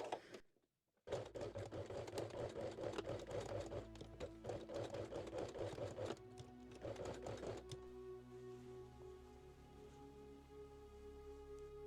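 A sewing machine runs a straight stitch on bikini fabric, a fast rattling run of stitches that starts after a brief pause, stops around halfway and gives way to quieter machine hum and light clicks.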